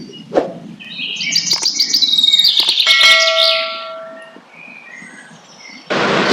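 Small forest birds in a cartoon story chirp and sing, a flurry of bright, close tweets and trills that swell, then thin out into sparse calls.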